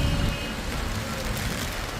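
Rain falling in Manhattan near Sixth Avenue and West 34th Street, a steady broadband hiss of wet city street with traffic rumble underneath.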